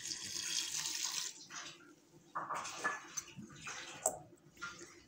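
Water poured into a cooking dish holding a paste of red chili, spices, garlic, ginger and green chili, heard as close, splashy pouring in several uneven bursts with short pauses between them and no talk.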